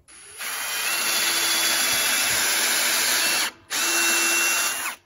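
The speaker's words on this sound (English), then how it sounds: "So we gotta drill a hole through here," A power drill bores a quarter-inch hole through a board for a DIY solar panel ground mount, running loud and close in one long steady whine, pausing briefly, then spinning again.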